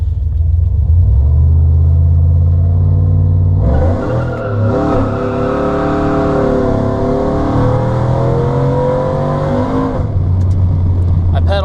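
A cammed Chevrolet Silverado pickup sits at a loud, lumpy idle, then accelerates hard with a rising, roaring engine note climbing through the revs before settling back to a rough idle, heard up close from inside.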